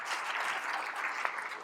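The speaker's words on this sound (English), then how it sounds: "Clap your hands if you're Arab." Steady hand clapping from a crowd in a hall at an Arab engineers' festival, a dense, even wash of claps at moderate volume with no talk over it.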